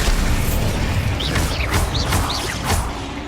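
The Bombarda blasting spell going off in Hogwarts Legacy, a loud booming impact with crashing debris and whooshing magical effects over a dense, busy game soundscape.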